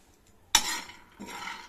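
Peanuts are stirred in a hot, dry pan, giving a sharp clattering rattle of nuts against metal, a short pause, then a second softer scraping burst, close and without speech.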